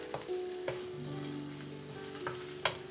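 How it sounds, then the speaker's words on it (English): Garlic and shallot frying in oil for a vegan Thai green curry, giving a soft, even sizzle with occasional clinks and stirring knocks nearby, no voices. "Next procedure we're gonna do is to saute the garlic."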